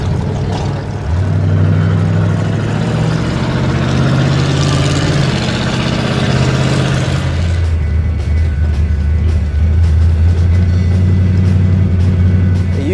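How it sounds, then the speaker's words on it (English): A 1961 Mercury Comet on a test drive, its engine a steady low hum and road rumble that shifts in pitch as it drives, continuous and close from inside the car. "great opportunity to go for a test drive and try it out."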